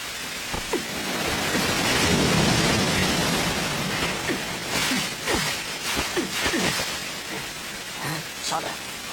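Heavy rain pours steadily through an anime scene, with a low thunder rumble swelling early on and voices talking briefly over the downpour.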